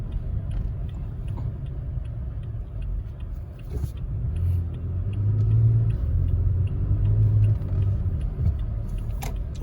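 A truck engine idles with a low, steady rumble that swells slightly as it revs, heard up close at moderate level with faint ticks and clicks over it.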